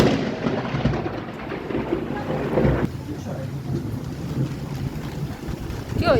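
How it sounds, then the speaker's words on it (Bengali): A loud, rumbling crack of thunder breaks over steady heavy rain during the first rainstorm of the year after a hot spell, followed by a continuous roar of rainfall and wind. "বাজ পড়লো, বাজ পড়লো।"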